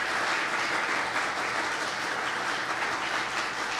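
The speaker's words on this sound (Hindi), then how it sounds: "आपकी भरपूर तालियों में सिस्टर अनीता" A church congregation at a women's Mother's Day service applauds to welcome Sister Anita, a dense, steady wash of clapping that fills the room from start to finish with no pause.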